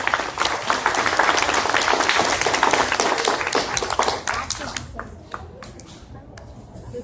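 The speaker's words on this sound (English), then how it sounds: "Can I get a round of applause for my assistant, please?" A crowd at a glass breaking demonstration at the Corning Museum gives a round of applause, dense clapping for about four seconds, then thinning to scattered claps as it fades.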